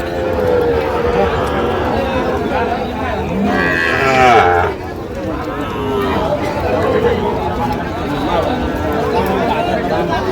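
A Sahiwal calf lets out a single drawn-out moo at a busy cattle market, partly over loud bargaining voices and crowd chatter that continue around it.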